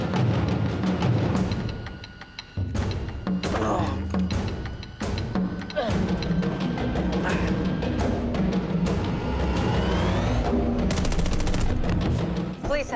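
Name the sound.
gunfire in a police chase game or film clip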